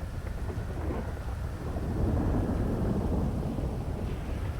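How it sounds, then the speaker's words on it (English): Heavy rain and rolling thunder in the game GTA V on the NoPixel roleplay server, a steady downpour with a low, sustained rumble that swells midway and holds. "God damn, this rain is bad."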